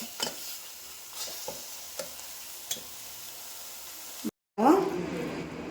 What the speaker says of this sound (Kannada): ಇನ್ನೂ ಫ್ರೈ ಆಗಿಲ್ಲ, ಫ್ರೈ ಆಗ್ತಾಯಿದೆ